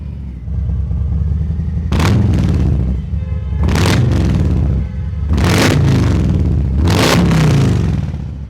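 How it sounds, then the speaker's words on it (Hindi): A 2020-model motorcycle with 8,000 kilometres on it idles, then its exhaust roars through four sharp revs in a row, each blip rising and dropping back, close and loud. "आप एग्जॉस्ट की आवाज़ सुनो बाइक की"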